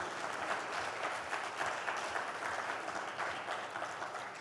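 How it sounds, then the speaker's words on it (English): Sustained audience applause for the speakers and panelists of a maritime-sector digitalization conference, a broad even roar of many hands clapping that continues steadily for several seconds. "Round of applause for all of them"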